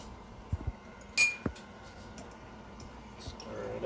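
Eggnog ingredients are being mixed in a container, with a few light clinks and taps, one sharp chink partway through, over a quiet background.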